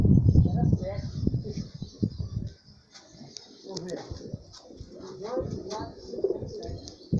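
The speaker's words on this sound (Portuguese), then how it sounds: "Alex de Betim soltando os pombos aqui na casa do Renato" Racing pigeons are let loose at a home loft, with soft cooing and wing flutters close by, while a person talks over them throughout.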